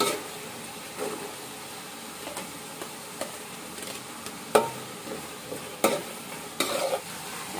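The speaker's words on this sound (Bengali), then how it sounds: "পেঁয়াজ কলিটা দিয়ে দিব" Chopped spring onions frying in a pan for khichuri, a low steady sizzle broken by several sharp scrapes and clatters of stirring, fairly quiet and close.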